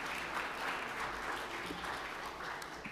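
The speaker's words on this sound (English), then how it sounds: "I think he deserves a round of applause." Steady applause from a crowd filling a city council chamber, many hands clapping continuously at moderate volume for the full stretch with no voices over it.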